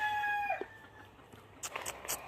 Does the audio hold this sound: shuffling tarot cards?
no